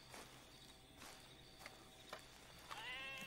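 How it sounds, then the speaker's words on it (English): Sheep bleat in a Red Dead Redemption 2 hunting outing, soft and somewhat distant against quiet ambience, with a few faint footstep-like thuds and a clearer bleat at the end. "I can hear a sheep or something."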